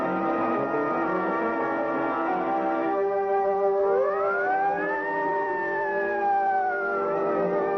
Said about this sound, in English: Then the sirens howl because the man is dead